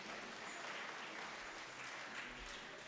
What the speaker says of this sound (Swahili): Wacheni tumpigie Yesu makofi